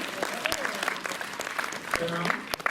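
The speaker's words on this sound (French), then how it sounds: "Applaudissez, s'il vous plaît." A cinema audience at a screening event applauds in a brief burst of scattered claps, with a voice speaking over it.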